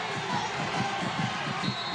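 A crowd at a 2001 PIAA high school football game between Southern Columbia and Mount Carmel roars steadily from the stands, a broad, sustained wash of cheering heard from a distance.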